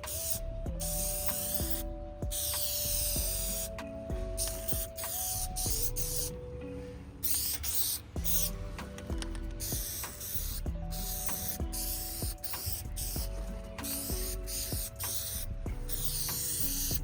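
Continuous hissing spray paint coats truck mirrors matte black for a 2023 Chevy GMC, a close, steady spray with brief pauses between bursts.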